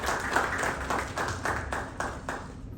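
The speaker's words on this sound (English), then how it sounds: "So can we welcome him with huge round of applause" An audience at a BPO and contact centre summit applauds to welcome a speaker, with rhythmic group clapping in regular beats, moderately loud and fading toward the end.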